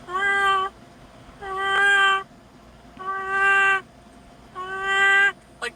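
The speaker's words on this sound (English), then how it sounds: "That's the cat." A cat gives four long, loud, drawn-out meows in a row, each about a second apart, close to the listener with little else around.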